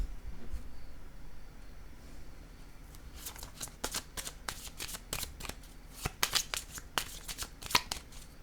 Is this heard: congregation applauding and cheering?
no